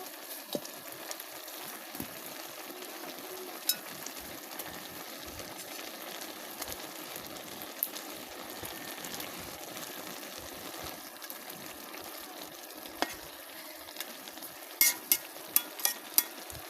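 Water lily stems and taki fish simmer in a pot on a clay stove, a steady soft bubbling hiss with scattered small clicks and a few sharper taps near the end.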